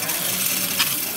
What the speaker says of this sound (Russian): Вот мы сейчас запустим и увидим, с какой скоростью машина все это делает.